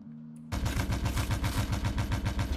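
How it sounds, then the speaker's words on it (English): A radar-aimed turret in Stormworks opens fire after a brief quiet start, a rapid, evenly spaced burst of loud gunshots repeating steadily to the end. "It'll keep firing at whatever it sees"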